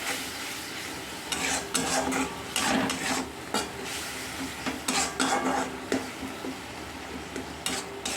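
A spoon stirs an onion and tomato mixture in a pan for egg curry, scraping and clinking in repeated close bursts over a soft sizzle, with no voices.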